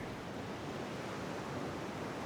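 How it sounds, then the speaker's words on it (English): A steady, soft rush of ocean surf carries on without pause as a wave approaches the shore, heard alone with no talking. "Watch a wave approach the shore."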